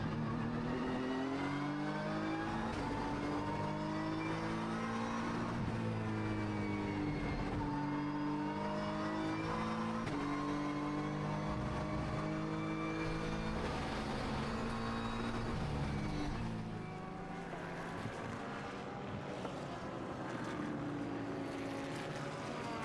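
A GT race car's engine, heard onboard during a qualifying lap at Mandalika in GT World Challenge Asia, roars loud and close throughout. Its pitch climbs and drops repeatedly through gear changes and braking.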